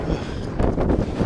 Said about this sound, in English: Bloody windy here.